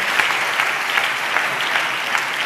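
A church congregation at a pastor's sermon claps in praise of God, a dense, even stream of hand claps with no break.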